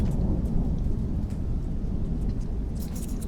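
Deep rolling thunder in the video game Rain World, a loud sustained low rumble mixed with steady rain hiss, a few sharper crackles near the end.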